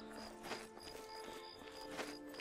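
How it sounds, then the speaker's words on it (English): Faint horse hoofbeats clip-clop in an irregular walking rhythm in the video game The Elder Scrolls IV: Oblivion, quiet against steady game background tones. "my horse should be on the other side"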